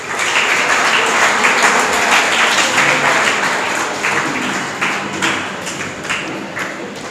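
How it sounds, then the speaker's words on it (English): Loud, steady applause from an audience at a confidence building program held at an English academy, dense clapping sustained throughout and easing slightly toward the end. "I would like to say, clap for yourself first."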